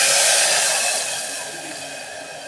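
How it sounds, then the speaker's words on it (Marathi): Water poured steadily into a pot for jeera rice, a loud close rushing splash that stays constant and eases slightly toward the end, with no one speaking. "पाणी घालूयात आता."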